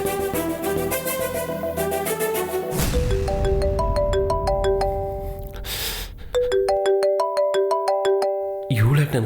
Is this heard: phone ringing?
yes